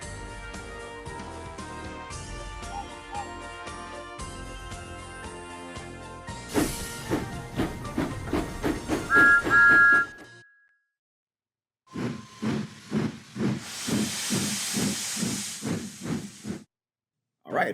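Giant Whistling Thomas toy train plays music, then gives rhythmic bursts of steam hiss with a brief whistle. After a pause, another loud run of pulsing puffs and hiss stops suddenly.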